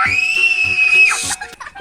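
A child shrieks loudly and shrilly during a cops-and-robbers game at home, a sustained high scream lasting about a second, followed by brief excited voices.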